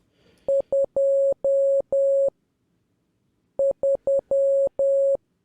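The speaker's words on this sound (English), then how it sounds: "Audio clips and Morse code. That's gonna be connected." Morse code beeping from the puzzle game House of Puzzles in two groups of short and long electronic tones with a silent pause between them, crisp and prominent.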